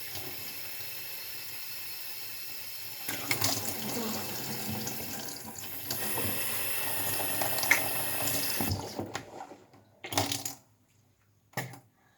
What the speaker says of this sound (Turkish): elimi yüzümü yıkadım